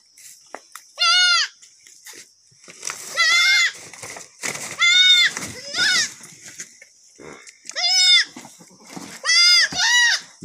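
Newborn kids and their mother goats bleat in a cold shed, several loud, wavering cries at close range spaced a second or two apart, with quieter rustling and faint sounds between them.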